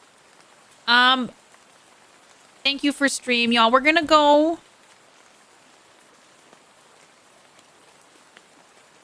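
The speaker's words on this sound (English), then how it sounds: "I gotta say, the rain is just kind of nice right now." Steady soft rain patters in the background during a relaxed live stream, a faint constant hiss running throughout while someone speaks briefly near the start and again in the middle.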